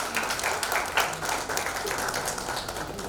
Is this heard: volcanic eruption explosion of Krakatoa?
no